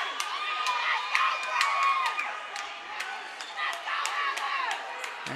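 Gym crowd at a high school playoff basketball game cheering and clapping, a continuous roar with sharp claps and shoe squeaks, fairly loud and steady for a few seconds.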